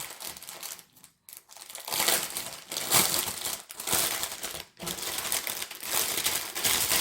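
Plastic packaging bags from an embroidery kit being opened, crinkling and rustling in bursts with brief pauses, fairly close and steady throughout.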